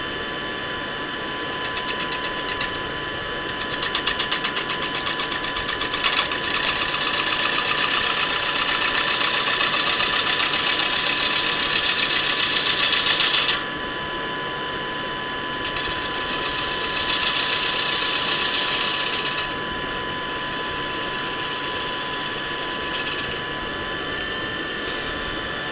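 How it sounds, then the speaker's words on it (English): A Twister Fu-180 lathe with a 1.5 horsepower motor runs under cutting load, a steady loud mechanical whine and hum that rises in strain for several seconds, eases off, then surges again before settling. "if I push a little bit more, I can stop the lathe"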